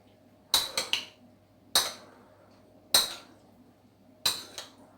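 A utensil clinking against a dish while pork is mixed with soy sauce: four close, bright bursts of clattering taps spaced about a second apart, each a quick double or triple clink over a quiet background.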